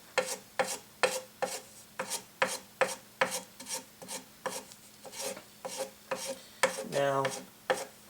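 Wax is pressed against the edge of a running sharpening wheel, giving a close series of rhythmic rubbing, rasping strokes at about one per half second, with a brief louder grinding swell near the end.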